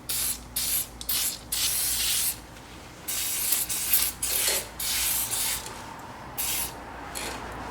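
Chain lube sprayed onto the chain of a Geo Blazer HS 125 motorbike in short repeated hissing bursts, close and fairly loud, with brief pauses between sprays.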